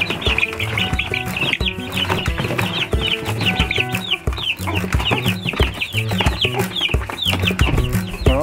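Several chickens cluck and chatter close by, a busy overlapping flock with steady activity and some rustling throughout.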